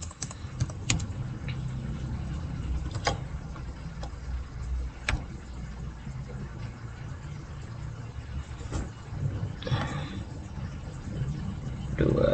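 Steady clicking of a computer keyboard as a family card number goes into an online school registration form, fast irregular taps close by over a low background hum.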